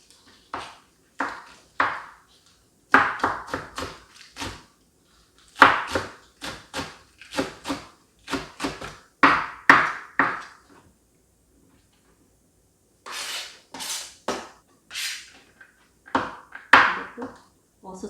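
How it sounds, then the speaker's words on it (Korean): Green onion finely chopped with a knife on a cutting board for sweet potato stem kimchi: quick, close knife taps come in rhythmic bursts separated by short pauses, with no talking. "대파는 송송송 썰어주세요."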